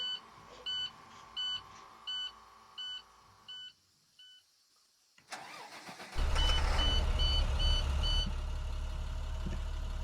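In a bus driving video game, rhythmic electronic beeps, then a pause before a mid-pitched bus engine cranks and roars to life, settling into a loud steady idle with more beeps over it.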